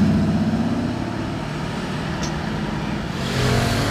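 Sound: V12 sports car engine

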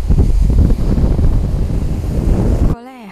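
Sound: strong wind by a river in Kinugawa

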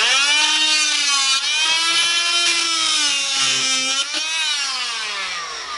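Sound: cutting nails with a bimetal saw blade

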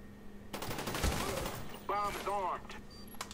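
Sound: gunfire from Call of Duty Black Ops video game

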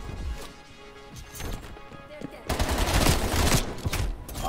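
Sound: AMP 63 pistol gunfire in a Call of Duty video game

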